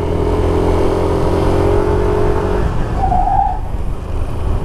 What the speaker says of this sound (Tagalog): Nag-i-skid po ako sa sa front brakes.